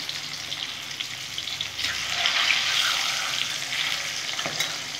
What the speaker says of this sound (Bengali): মাছ এখন আমি ভেজে নেব।